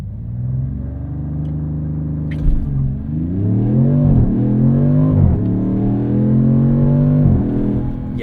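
A 2026 Dodge Charger Scat Pack with a twin-turbo inline-6 launching under launch control, its engine droning loud and close, then climbing in pitch through several distinct upshifts with brief dips between gears.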